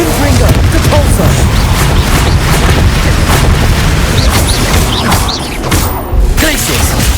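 Confringo spell explosions in Hogwarts Legacy gameplay: loud, dense, rumbling booms and thuds that roll on almost continuously, with voices shouting over the blasts.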